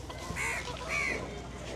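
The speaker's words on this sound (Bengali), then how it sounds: "দেশি মুরগি।" Local chickens at a morning riverside market in Dhaka cluck quietly in two short bursts, heard faintly against the general market background.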